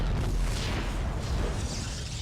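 Cannons boom in a naval strategy video game, a dense, continuous low rumble of distant firing and impacts with no clear separate shots.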